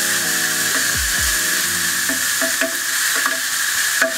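Onion and jalapeno sizzle in hot oil, a steady loud frying hiss with clinks of a utensil, a short low rumble near the start, and scattered stirring scrapes near the pan.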